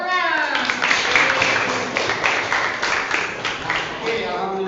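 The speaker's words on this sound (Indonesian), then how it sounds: "Tepuk tangan." Classroom of students clapping their hands together, a brisk, steady run of claps lasting several seconds, with voices mixed in over it.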